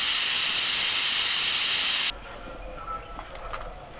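A pressure cooker whistle blasts loud, hissing steam for about two seconds, then cuts off abruptly, leaving a low room rumble and faint clinks.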